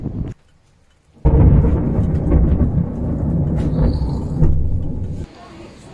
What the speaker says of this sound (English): Lightning is just above our heads now.